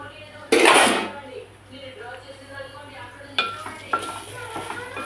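Bitter gourd curry fries in a pan with a loud metal clatter of the spoon or lid at the start, then soft sizzling and occasional stirring clinks.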